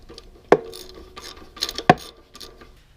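Ratchet snugging bolts on a Ford E4OD transmission: two sharp metallic clacks amid short bursts of clicking and rasping, close and moderately loud.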